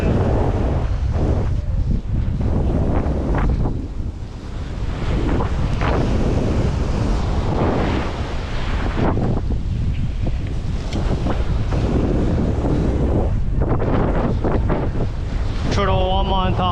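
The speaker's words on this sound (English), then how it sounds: "I love this wind going right in my face." Strong ocean wind buffeting the microphone on a Molokai shoreline while fishing, a loud continuous roar with gusts and surf mixed in, a voice speaking faintly near the end.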